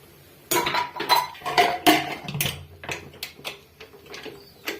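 A spoon scrapes and clinks against a metal pot of dal as salt is stirred in, a quick run of taps and knocks, close by and fairly loud, slowing toward the end.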